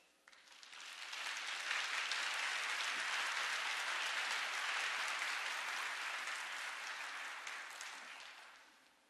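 An auditorium audience at a medical echocardiography lecture applauds to welcome the speaker, with dense, steady clapping that swells after a second, holds for several seconds and tapers off at the end.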